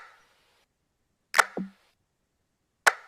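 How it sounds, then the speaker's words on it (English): A crisp finger-snap sample used as a layer on the snare of a guitar pop beat, heard alone: a quiet tail, then a sharp snap with a short low thud after it, and one more isolated snap about a second and a half later. "Let's listen to it on its own. This is actually a proper snap."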